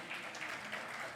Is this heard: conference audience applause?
yes